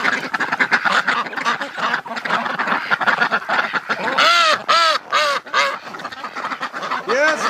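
Several ducks quack loudly and repeatedly, a busy chorus that grows stronger toward the end, with a voice faintly mixed in.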